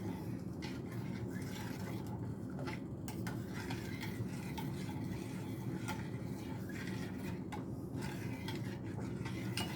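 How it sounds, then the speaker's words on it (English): Cajun veggie pasta being stirred in a pot, with a continuous soft scraping and clinking of a utensil against the pot under a steady low hum, close and moderately quiet. "So I'm going to stir."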